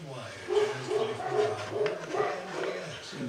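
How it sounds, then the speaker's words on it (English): Pet dogs yip, whimper and bark in short repeated bursts close by indoors, continuing steadily under a quiet background. "These are my dogs."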